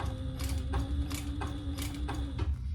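A sewing machine stitches slowly through a crossbody wallet, giving a steady mechanical whir with a hum and rhythmic clacking pulses about twice a second, close and continuous, with no talking.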